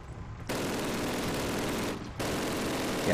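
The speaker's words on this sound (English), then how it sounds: "it sounds like this machine gun nest here still" Dense, continuous automatic gunfire from a machine gun nest in Call of Duty roars close and loud through almost the whole stretch, dipping briefly before resuming, with no speech.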